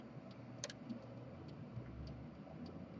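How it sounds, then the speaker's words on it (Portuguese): A chess clock ticks steadily and faintly, with soft, regularly spaced clicks over quiet room background and no voices. "Ouça o tic-tac."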